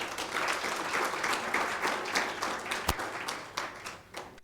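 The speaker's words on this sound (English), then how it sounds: "Another round of applause." An audience at a mental health research workshop claps in a sustained round of applause, a dense, even patter of many hands heard from within the room, tapering toward the end.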